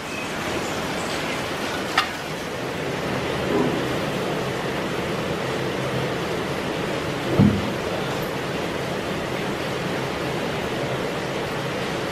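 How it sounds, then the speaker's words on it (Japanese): Steady rain falls outdoors in Kingston, Jamaica, a dense even hiss that holds for the whole stretch, with two brief dull knocks standing out near the start and the middle; no one speaks. "ちょっと雨ですね。"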